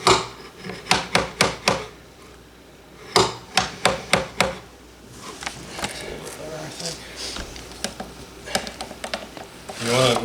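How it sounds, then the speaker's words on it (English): A hammer strikes at a toggle drill workshop, two quick runs of about five sharp blows each, followed by softer knocks and handling noise with people talking nearby. "There's a hammer."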